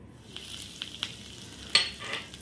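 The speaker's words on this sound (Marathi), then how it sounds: "आता मी त्यात कढीपत्ता घालते" Curry leaves dropped into hot oil in a pan on a switched-off gas stove give a soft, crackling sizzle with a few sharp pops, fairly faint and close, with no voices.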